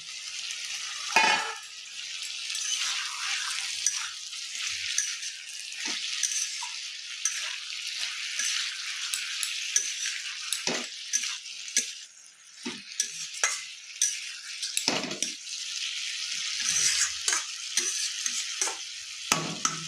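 Small fresh river fish frying and sizzling in a pan of winter-vegetable chorchori, a steady crackle with stirring scrapes and occasional clinks of utensils, close and continuous with no talking.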